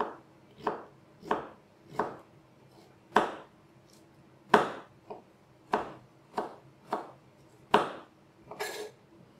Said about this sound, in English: Cut that into nice thin strips.